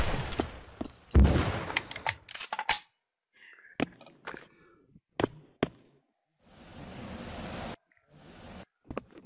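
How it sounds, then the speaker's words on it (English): Gunfire in the VR shooter game Pavlov VR, with a dense burst of shots at first, then scattered sharp single cracks and a longer rattling volley, separated by near silence. "They're shooting over here."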